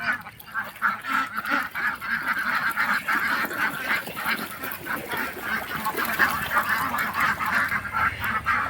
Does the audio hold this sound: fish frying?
no